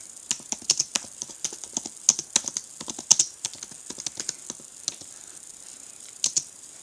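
Fingers tapping on a tablet's keyboard in a quiet room, a fast, uneven run of light clicks and clacks that keeps going with short pauses, nearby and alone.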